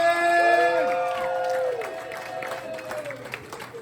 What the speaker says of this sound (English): Applause, welcome him to the stage